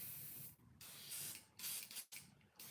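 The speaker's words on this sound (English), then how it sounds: "Let's make a quick spray out." Airbrush spraying thinned paint mixed with mixing white at raised pressure, in short hissing bursts separated by brief pauses, close and steady.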